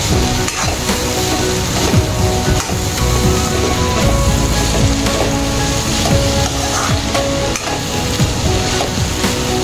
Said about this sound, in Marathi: कांदा परतून झाला का नंतर घालायची म्हणजे छान असा त्याचा वास येतो आहे कांद्यामध्ये